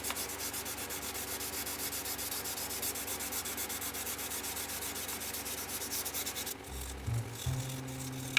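Close, steady back-and-forth rubbing of 2000 grit sandpaper wet sanding car paint on a Chevy build, continuous and soft, then a few knocks and handling noises at the end, with no voices.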